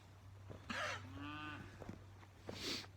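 A red cow in a heifer lot lets out a loud, drawn-out bellow, followed a moment later by a shorter second call, with no talking.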